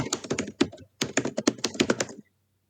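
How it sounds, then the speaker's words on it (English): Fast keystrokes clatter on a computer keyboard in two close bursts of rapid tapping separated by a short pause, then stop, with no talking over them. "We can hear you typing."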